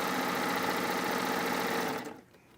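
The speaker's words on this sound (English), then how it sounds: "She's not even on full speed on the serger." Serger stitching fabric at high speed, a fast even whirring hum close by for about two seconds before it stops abruptly, leaving quiet.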